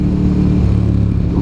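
A motorcycle engine drones steadily while the bike is ridden fast, a constant loud low rumble with harmonic bands and no letup, close and unbroken for the whole moment.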